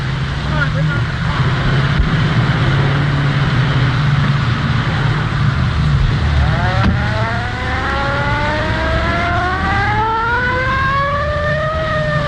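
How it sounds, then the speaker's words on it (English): An early-1930s car starts and drives off, its engine noise rising into a climbing whine under steady background noise and voices talking. "Come on, start it up. That's it. Come on, now, bring that car on there."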